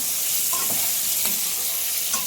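Small bitter gourds frying in a pan, a loud close continuous sizzle with occasional light scrapes of stirring, with no voices.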